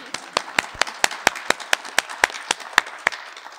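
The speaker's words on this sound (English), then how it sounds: "So can we give them one more round of applause?" Sparse, scattered applause from a small audience at a cultural slam event, with a dozen or so distinct sharp claps spaced out over a few seconds.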